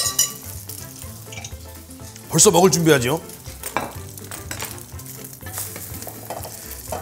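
Milk-soaked bread for French toast fries in cooking oil in a pan. A loud, continuous sizzle is heard up close, with occasional clinks of utensils. Someone speaks briefly partway through.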